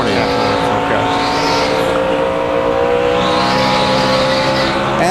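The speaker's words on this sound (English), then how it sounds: "while we watch Michael Waltrip's Napa onboard camera" A NASCAR race car at Phoenix in 2004 heard from onboard, a loud continuous engine drone rising and falling through the corners, with a commentator talking over it.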